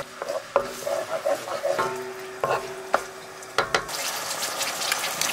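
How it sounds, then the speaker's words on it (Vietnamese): A spoon stirs a seasoning sauce of chicken stock powder, sugar and MSG in a pot to dissolve it, giving scraping clinks against the metal and liquid swishes, with sharp taps and a faint bubbling hiss near the end. "Khuấy cho tan gia vị."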